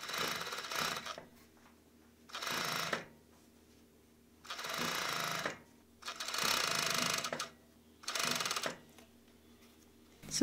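A sewing machine stitches a T-shirt hem in five bursts of steady rapid running, each a second or so long, separated by quiet pauses.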